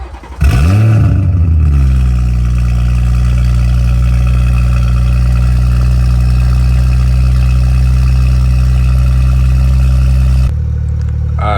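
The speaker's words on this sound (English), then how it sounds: "I'm gonna go ahead and have it out here so y'all can hear it when I turn the car on" A 2018 BMW 540i xDrive cranks and fires up loudly, its revs swelling briefly before settling into a steady, close, rumbling idle that holds for about ten seconds until the recording cuts off.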